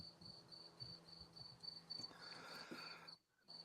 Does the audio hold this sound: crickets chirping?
yes